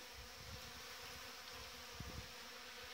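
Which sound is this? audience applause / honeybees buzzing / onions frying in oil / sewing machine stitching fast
honeybees buzzing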